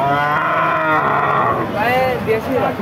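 Skinny cattle at a Bangladeshi livestock market, one cow giving a loud, close, drawn-out moo followed by shorter lowing calls, with market chatter around.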